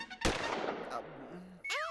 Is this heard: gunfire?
yes